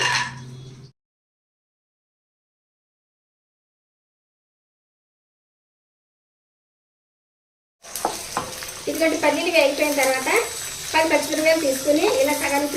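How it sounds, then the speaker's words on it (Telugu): Half a cup of peanuts frying in hot oil in a pan, a steady close sizzle with bursts of crackle after a short opening sound and a long silent gap. "ఆయిల్ వేడైంది ఇప్పుడు ఒక హాఫ్ కప్పు పల్లీలు వేసుకోవాలి"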